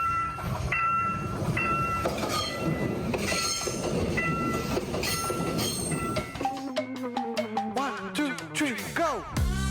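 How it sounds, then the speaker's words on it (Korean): A Santa-themed passenger train pulls into a station in Samcheok, Korea, its wheels clattering and squealing loudly, with a sweeping metallic screech rising as it slows to a stop. "와 산타 열차다. 왔어요."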